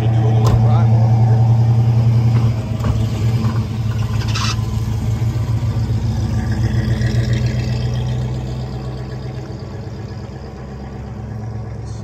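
A 1973 Pontiac Trans Am with a matching-numbers 455 V8, red, idles with a deep steady rumble, then pulls away and fades slightly as it drives off, with people talking over it.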